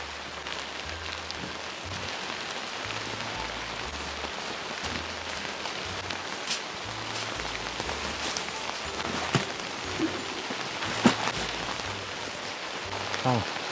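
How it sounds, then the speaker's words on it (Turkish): Heavy rain pours down on a winter campsite in a steady, dense hiss, with scattered louder drops striking close surfaces and faint voices at times. "Yağmur hızlandı."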